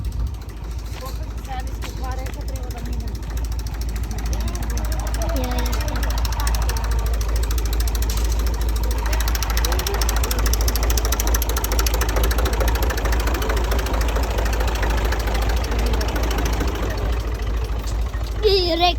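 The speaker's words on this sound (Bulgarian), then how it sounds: "Гледај трактор." A tractor engine idles and runs steadily nearby as a low, continuous mechanical drone with faint knocking, while voices talk over it throughout.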